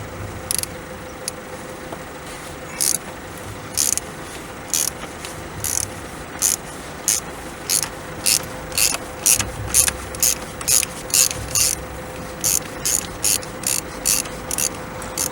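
Ratchet with a long extension loosening a bolt on the underside cover of a car during home servicing: a rapid series of sharp, close clicking bursts in an uneven rhythm, with no speech.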